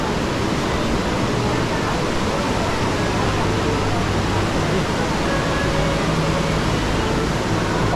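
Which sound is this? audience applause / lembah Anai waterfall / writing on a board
lembah Anai waterfall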